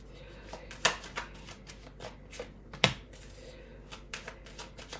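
Tarot cards being shuffled by hand, a sequence of close, crisp riffles and flicks with two sharper snaps and soft handling rustles between them.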